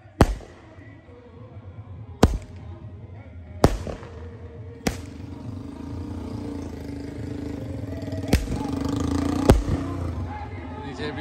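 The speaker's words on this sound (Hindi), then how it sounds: "ये फायर वर्क्स का भी इंतजाम किया इन लोगों ने" Fireworks exploding at an outdoor mehendi night celebration, with about six sharp, loud bangs spaced irregularly and each followed by a crackling tail. Crowd babble and voices run underneath throughout.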